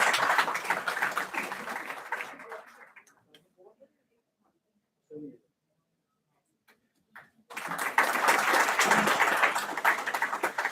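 Conference audience at an award session applauds a best paper winner, a burst of clapping that fades out, a few seconds of near silence with faint scattered sounds, then a second loud round of applause.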